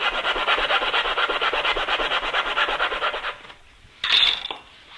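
A coping saw cuts through wood along a scribed line for a table stretcher joint, giving a steady rhythmic rasp of back-and-forth strokes that stops, followed by a short brighter scrape.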